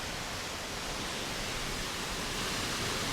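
Lower Calf Creek Falls in Utah pours as a steady, dense rush of falling water, constant and broadband without change, heard alone with no voices.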